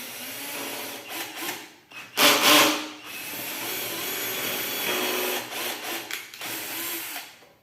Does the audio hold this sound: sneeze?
no